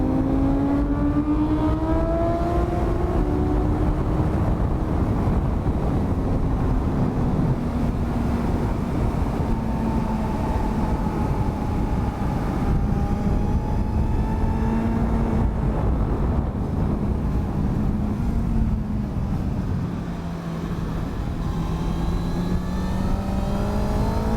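A motorcycle on a race track following a CBR, with heavy wind rush and a loud, steady engine note rising and dipping through gears from the rider's position, and no talking.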